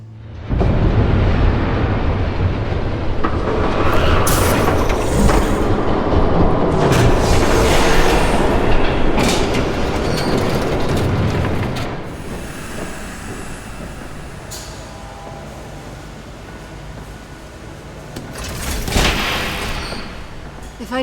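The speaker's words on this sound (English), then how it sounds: "There's a train coming." A train thunders past in the Batman Telltale Series video game, a loud rushing rumble with clattering bursts that peaks early, fades through the middle and swells briefly again near the end.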